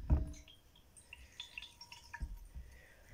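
Water poured into a dish, a few soft drips and splashes with a small liquid gurgle, close and quiet, short bursts separated by near silence.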